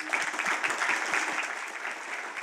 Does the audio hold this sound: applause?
yes